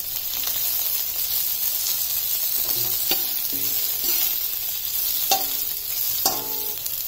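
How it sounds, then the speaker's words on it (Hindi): Tomatoes with salt cooking in a pan for spicy dry potato sabzi, a constant hissing sizzle with a series of light scraping and clinking stirs spread through it; nobody speaks. "एक दो मिनट ही हमें करना है, ज्यादा सॉफ्ट टोमेटो नहीं करना है, बस हल्का सा कच्चापन खत्म हो।"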